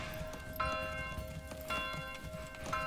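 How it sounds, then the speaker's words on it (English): An alarm bell in the medieval city-builder game Manor Lords is struck about three times, roughly a second apart. Each strike is bright and ringing, with a sustained metallic tone that hangs between hits over steady background game noise. "he's ringing the bell, man"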